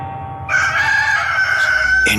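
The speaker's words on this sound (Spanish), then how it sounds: "un gallo cantó" A rooster crows once, loud and close, a single drawn-out cock-a-doodle-doo lasting under two seconds.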